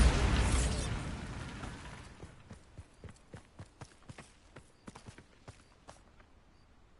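A Bombarda spell blast in Hogwarts Legacy booms loudly and crumbles away over about two seconds. Quiet, evenly spaced hollow footsteps or hoof-like clops follow.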